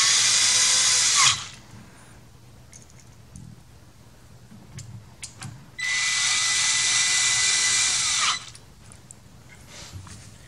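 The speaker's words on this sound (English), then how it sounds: "you can use a power tool without worrying about stripping them out." A power drill drives screws into aluminum rails in two loud, steady bursts of whining motor, each lasting a couple of seconds. Light clicks and handling noises fill the gap between the bursts.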